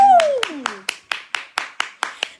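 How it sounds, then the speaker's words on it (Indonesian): During a live product-promotion broadcast, a voice speaks briefly, then about nine crisp, evenly spaced claps follow in a steady rhythm, sharp and close. "Tepuk tangan untuk Ritik Rosani itu."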